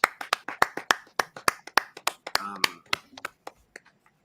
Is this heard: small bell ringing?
no